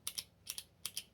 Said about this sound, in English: That is a click.